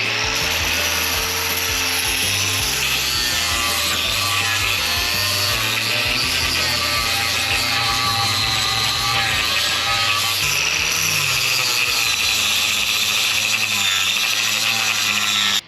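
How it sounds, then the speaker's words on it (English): An angle grinder with a flap sanding disc runs continuously at a loud, steady whine, its pitch wavering slightly as the disc bites into wood. "Next, we're fixing to try the grinder with a flap disc, sanding disc."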